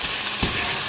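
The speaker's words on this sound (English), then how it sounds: "Okay, so our meat is browning." Partially frozen meat browns in a hot pan, giving a loud, continuous sizzle and hiss with a brief soft knock partway through.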